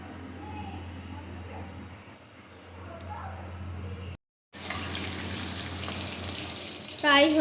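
Chicken strips frying in a shallow layer of oil over medium heat, a soft steady sizzle that breaks off briefly, then returns louder and brighter.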